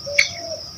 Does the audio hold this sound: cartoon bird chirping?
yes